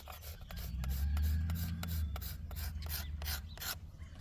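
Hand scraper shaving wood along an 11th-century-style longbow limb, a series of soft raspy scraping strokes in an uneven rhythm, close and fairly quiet over a low background hum, no talk.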